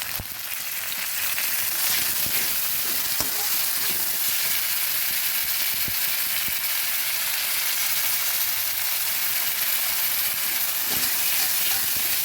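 Chopped onion, ginger and garlic fry in a pan with a continuous, even hiss and sizzle, moderately loud and close, dotted with occasional soft ticks and pops of stirring.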